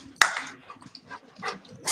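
A dog gives one sharp, loud bark, then snuffles and makes small excited noises close by.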